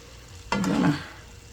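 Chicken taco filling stirred in a frying pan with a plastic utensil: one short scraping stir with a soft sizzle, close and fairly quiet, lasting about half a second.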